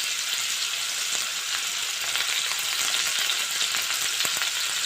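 Ginger garlic paste sizzles loudly in hot oil, a dense, constant hiss with small pops, steady and close for the whole stretch with no voices.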